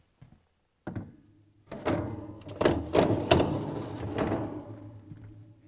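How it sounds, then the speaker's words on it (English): A plastic refrigerator drawer is pushed in with a few soft thunks, then slides and rattles into place with scraping bumps, fairly close and moderately quiet. "Install the lower drawer."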